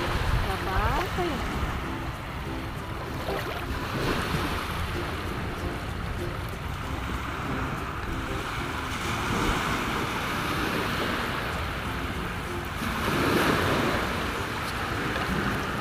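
Ocean waves at a beach, a broad continuous wash of surf with swells rising and falling, wind rumbling against the microphone, and people talking intermittently over it.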